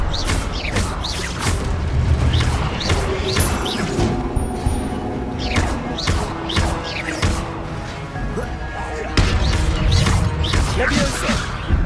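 Spell effects in Hogwarts Legacy, including the Incendio fire spell, crash and whoosh in repeated bursts amid game combat noise, with a voice calling out spell names over the action.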